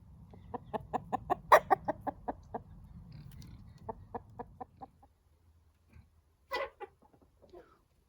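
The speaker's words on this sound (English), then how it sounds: "Good night, chickens." Chickens cluck in a quick run of sharp, rhythmic calls close by, then fall quiet before a few scattered squawks and soft clucks.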